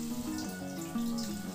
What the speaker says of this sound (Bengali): ওই বাটি ধুয়ে কিছুটা জল দিয়ে দিলাম